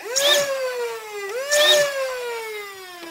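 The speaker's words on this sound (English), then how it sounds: "And then I'm going to rev my blaster." A proton pack blaster revs up twice in quick succession, each time an electronic whine that sweeps upward in pitch and then settles into a steady tone. It is loud and close, with no other sounds.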